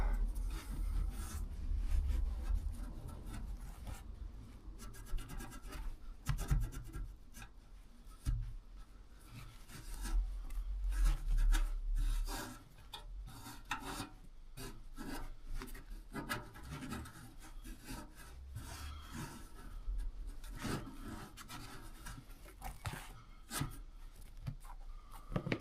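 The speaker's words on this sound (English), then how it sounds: "I know it's the wrong sandpaper to do that job" Sandpaper rubs back and forth over a surface on a bus project in a workshop, a soft, irregular scratchy rasp that comes in uneven strokes and pauses, fairly faint and without voices.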